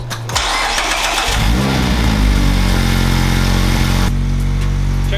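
A Mazda Miata engine with newly installed headers and HKS exhaust cranks and fires up, then settles into a loud, throaty idle with a deep exhaust rumble, close by and steady.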